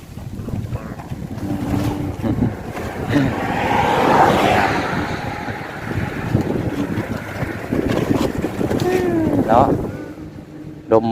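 Strong, cold wind gusting outdoors, a loud continuous rush and buffeting that swells and fades, heard under and around someone talking and other bits of activity.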